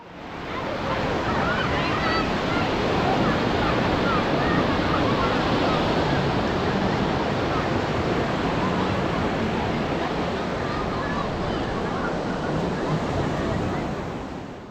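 Ocean surf at Chandrabhaga beach near Puri forms a dense, continuous roar of breaking waves. Wind buffets the microphone throughout, with no distinct individual wave crashes standing out.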